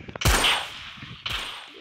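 Gunfire in the Roblox game Murder vs Sheriff: two sharp, loud shots about a second apart, each with a brief echoing tail, heard up close with no talking.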